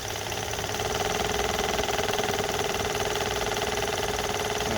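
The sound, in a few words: car rattling while in reverse gear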